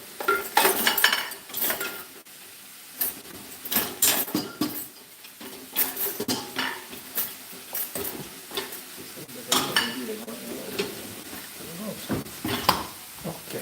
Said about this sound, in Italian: Mi prendo la pentola un po' più capiente